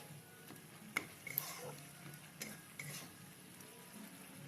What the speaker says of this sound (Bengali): একটু নেড়ে নেব ভালো করে মশলাটাকে।